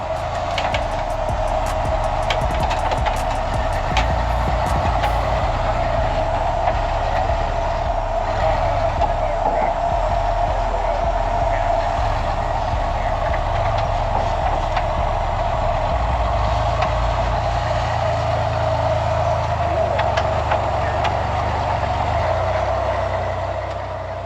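A rock crawler climbs a rocky slope in Sand Hollow with a cheater axle in the rear; its engine drones loud and steady throughout, with a constant tonal hum and no break.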